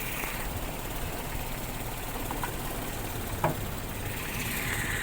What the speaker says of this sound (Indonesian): Kalau suara mesinnya masih halus teman-teman, masih ini langsamnya juga masih enak.